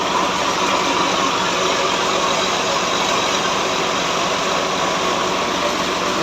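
A 2000-model Massey 240 tractor fitted with a Denbo engine idles steadily in Punjab, Pakistan, a continuous close, even engine drone that runs unbroken throughout with no talk.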